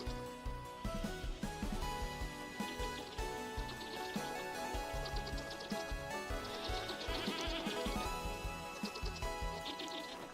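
Goats bleat repeatedly in the Vintage Story survival game, several wavering calls rising over layered game music and ambient effects, fairly close and moderately loud.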